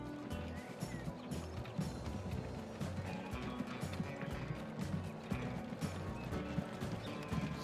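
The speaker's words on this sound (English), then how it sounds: "wait for the horse cart to come out." A horse-drawn cart in the Transport Fever 2 video game clatters along, steady clip-clop hoofbeats over a rolling, rumbling bed of noise at moderate volume, with no talking.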